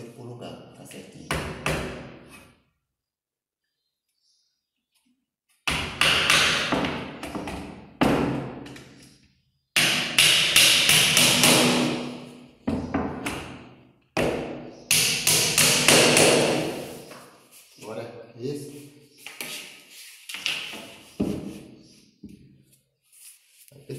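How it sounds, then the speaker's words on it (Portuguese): A hammer taps a nail into wooden door casing trim during an installation, giving scattered, fairly close knocks in short bursts, with someone talking over and between the blows. "Bate no prego e levando ele pro lugar, tá certinho."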